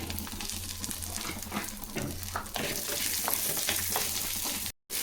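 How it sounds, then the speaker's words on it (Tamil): Small shallots frying with pepper and cumin for hotel-style tiffin sambar, a dense close sizzle under busy scraping and stirring of a spatula in the pan, then a brief silent gap just before the end. "இப்போது வெங்காயம் ஒரு 50 கிராமுக்கு சின்ன வெங்காயம் போடுங்க."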